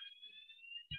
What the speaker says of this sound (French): je pense que je vais peut-être devoir sortir et que c'est une alarme incendie